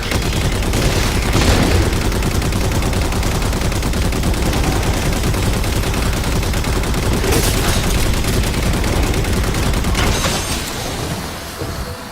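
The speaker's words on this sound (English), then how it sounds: "you get to use this nifty turret to hold off the bad guys" Sustained, loud automatic fire from a mounted turret in the Halo 4 video game, a dense continuous rattle with booming impacts lasting many seconds before easing slightly at the end.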